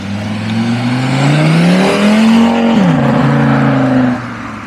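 A tuned Audi RS3 five-cylinder engine pulls under full throttle, its loud rising rev note climbing steadily before a quick dip and a sustained roar that fades at the end.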